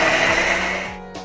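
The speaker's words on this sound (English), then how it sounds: "Now put it into a blender and blend it." A kitchen blender whirs loudly through cooked pumpkin and tomato with water, its motor pitch sliding down as it slows and winds off, close and alone.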